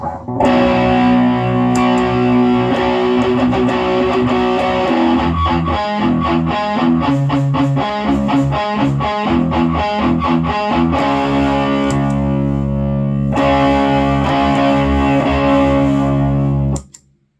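Heavily distorted electric guitar through budget overdrive and distortion pedals plays chords and riffs continuously for the whole stretch, loud and close, with no talking.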